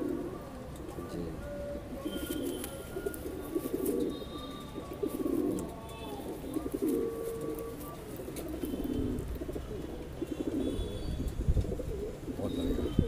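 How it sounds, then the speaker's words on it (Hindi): Madrasi pigeons at a loft, cooing softly in a steady, murmuring bubble that runs throughout, with a faint busy background and scattered bird calls. "ये मेरा मेन कबूतर है"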